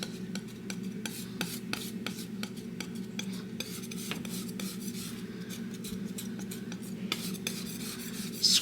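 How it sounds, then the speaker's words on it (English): A palette knife scraping and mixing oil paint (brown, black and phthalo blue) on a palette, with repeated rhythmic scrapes and taps over a steady low background hum; no speech. "Scraping it up, spreading it off. That's how we mix paint, super quick."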